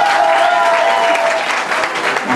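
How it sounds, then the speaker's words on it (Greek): Loud, dense audience applause fills a live Greek rock show, steady clapping throughout with a brief tonal note fading underneath. "Ένα χειροκρότημα που λέτε."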